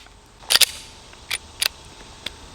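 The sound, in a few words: gunshots from Glock 43X pistol with Arc Division slide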